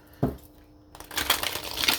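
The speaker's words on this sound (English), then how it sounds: "One more shuffle." Tarot cards being shuffled by hand, with a single sharp tap near the start followed after a pause by a dense, riffling flutter of cards that swells and continues to the end.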